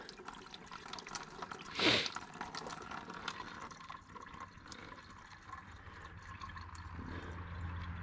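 Coolant drains from the radiator of a 2021 Can-Am Renegade 1000 XMR, a steady faint trickle and drip of liquid with one louder splashing gush near the start, heard close with no speech.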